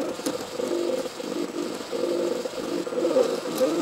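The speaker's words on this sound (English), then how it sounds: "This is a MakerBot Industries Cupcake CNC," A MakerBot Industries Cupcake CNC 3D printer runs close by, giving off a steady whirring, ratcheting mechanical buzz with small stepper-motor chirps, unbroken for several seconds with no voices.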